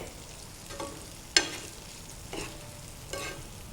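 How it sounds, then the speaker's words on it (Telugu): Capsicum fries in a pan and is stirred with a utensil, giving a soft continuous sizzle with a few sharp scraping strokes and clinks, close and moderate, with no talking. "ఇప్పుడు క్యాప్సికమ్ వేయాలండి. క్యాప్సికమ్ బాగా ఫ్రై కావాలండి."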